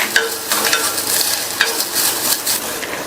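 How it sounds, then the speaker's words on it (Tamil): Grated coconut sautéed in ghee in a pan, with loud rhythmic scraping and stirring strokes over a light crackling sizzle, close up and with no talking. "1/4 கப் தேங்காய் துருவலை சேர்த்துட்டு இந்த நெய்லயே நல்லா வதக்கி விட்டுக்கலாம்."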